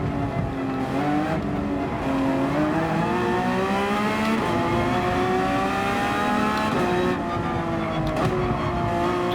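A race car in Gran Turismo 7 at Fuji screams along, its engine pitch climbing and dropping through repeated gear changes, loud and continuous.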